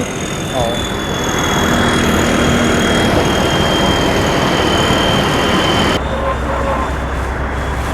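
A loud AMC V8 car engine runs steadily with a dense mechanical roar, a faint whine above it; a brief voice is heard, and the sound shifts abruptly near the end.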